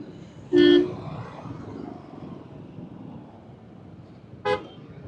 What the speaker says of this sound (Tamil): மணி 4 தான் ஆகுது, அதுக்கே இவ்வளோ டிராஃபிக்காக இருக்குது இந்த இடம்.